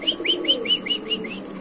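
A Mundian pigeon at a pigeon sale coos in a quick series of about seven close, rhythmic notes.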